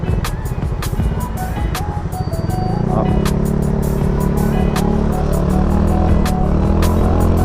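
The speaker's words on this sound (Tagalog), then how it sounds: "maraming mga sasakyan mabibilis." Fast cars and other vehicles stream past on Panay Avenue at Scout Reyes in the city, a loud, continuous traffic roar with engine drone close by and rising as more vehicles pass.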